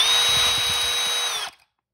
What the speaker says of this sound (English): Put it on the end of a drill. Put it on low speed.